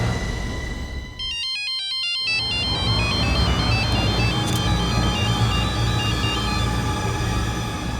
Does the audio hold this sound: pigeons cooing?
no